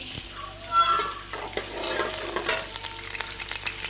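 Whole spices (black cardamom, cinnamon sticks, cloves and cumin seeds) lightly roasting in a pan for biryani, with a close, crackly sizzle and busy stirring scrapes.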